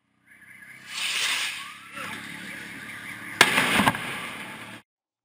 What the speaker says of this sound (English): the firework spirals into the street, just missing another biker before exploding under a bus